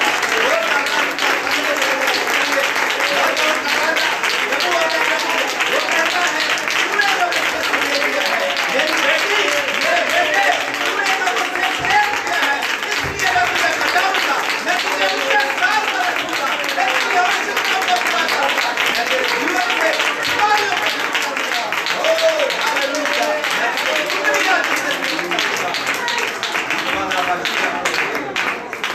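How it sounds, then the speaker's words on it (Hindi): A church congregation breaks into sustained loud applause for Jesus Christ during a sermon, dense clapping filling the space steadily and evenly from start to finish with no pause. "जोरदार ताली जाए प्रभु यीशु मसीह के लिए।"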